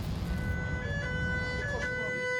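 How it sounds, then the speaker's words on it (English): An emergency siren wails from a firefighters' truck during a forest fire, steady tones heard faint and somewhat distant over rumbling noise, with a voice talking over it. "The emergency siren from one of the 2 isolated trucks that drove off is heard on all frequencies"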